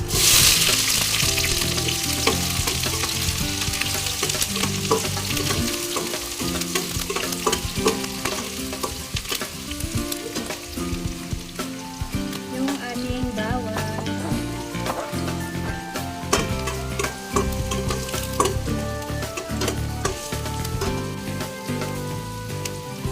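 Ginger, garlic and onion sauté together in a hot pan, giving a loud, steady sizzle with constant spatula scraping and stirring clatter throughout, with no voices.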